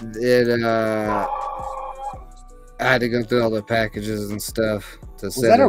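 A dog lets out a long, drawn-out, rooster-like bark close by, lasting about two seconds, followed by someone talking over faint background sounds.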